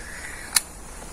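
A single sharp click from a PSE Coalition Frontier 380 crossbow as it is cocked and the safety engages, brief and close against quiet background.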